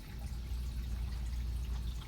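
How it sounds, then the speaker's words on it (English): Liquid soap pours into cupped hands at a sink during a hand-washing demonstration, a soft steady trickle over low running-water hiss, close by and continuous with no talking. "Dispense about 1 teaspoon of liquid soap into your hands."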